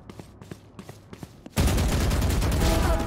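Gunfire in a two-player video game starts as a few spaced single shots, then breaks into loud, continuous rapid fire that dominates the rest of the clip.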